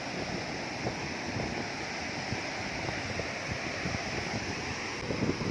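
Ocean surf washes along a beach in New South Wales, Australia, as a constant broad hiss of breaking water with steady wind buffeting the microphone.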